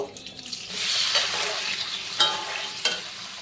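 Paneer pieces lightly frying in oil in a pan, left over from frying other ingredients for navratan pulao: a steady, soft sizzle with scraping stir strokes and a couple of sharp clinks, alone with no voices.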